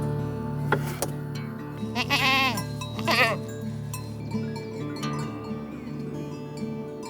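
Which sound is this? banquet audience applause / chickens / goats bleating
goats bleating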